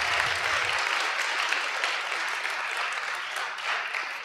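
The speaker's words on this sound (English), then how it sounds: "Another round of applause for the organizers." Audience applause for the organizers at closing remarks of an animal and human rights event, a steady sustained clapping from a crowd filling the whole stretch without pause.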